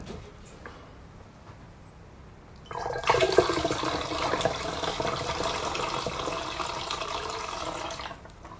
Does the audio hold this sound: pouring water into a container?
yes